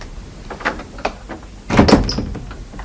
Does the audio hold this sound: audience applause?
no